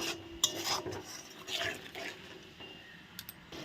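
A spice masala for cauliflower and potato curry is stirred and fried with a splash of water, giving soft wet sizzling under scattered scraping and clinking strokes of a spoon against the pan, close and fairly quiet.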